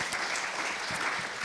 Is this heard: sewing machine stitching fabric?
no